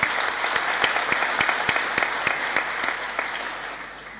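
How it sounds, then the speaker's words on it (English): Graduation ceremony attendees clap in a hall, with sharp individual claps audible through the dense applause as it gradually tapers off. "Clap again."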